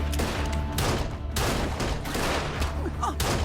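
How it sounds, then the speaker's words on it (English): Rapid gunfire is exchanged in a TV crime drama scene, with bursts of shots cracking over a dense, noisy action mix. "Gunfire is exchanged, and Stacy is shot."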